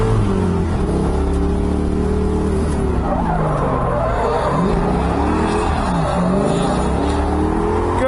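A drift car with its rear suspension setup maxed out screeches continuously, its engine droning loud and near with wavering pitch under a constant tire squeal.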